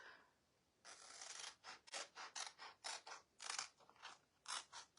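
Scissors cut a chalk transfer stencil in a quick run of crisp, close snips and rasping strokes, about a dozen in a row, with no talking.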